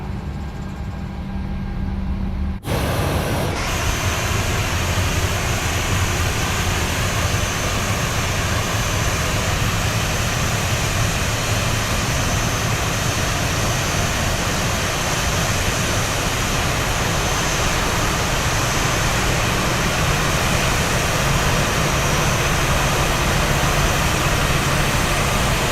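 An airliner engine in a flight simulator spools up after a fuel cut-in, building into a loud, dense, continuous roar that holds steady. A quieter hum comes before a sudden jump in level.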